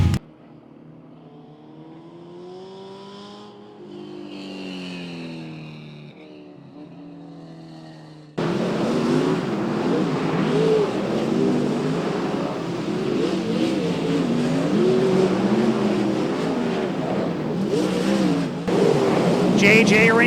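Dirt track race cars roar around the Watsonville track in Northern California, a loud continuous engine drone filling the second half, while a commentator talks over the first part and speech carries on beneath the racing noise.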